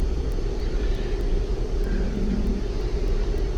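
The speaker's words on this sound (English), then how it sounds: "Okay, so now the aircraft is climbing as it's supposed to." A steady, loud roar of MD-80 airliner jet engines fills the cabin as the plane climbs after takeoff in the X-Plane 11 flight simulator, a constant drone with no talk.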